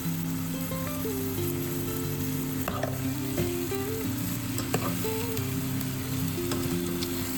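Chicken and sliced ginger fry in a pan with a constant, loud sizzle and a few faint stirring clinks throughout, and no one speaks.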